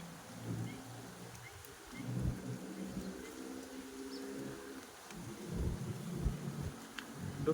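Rumbling thunder rolls low beneath wind as rain approaches a canal on an afternoon, a steady dull roar with a few swells and no voices.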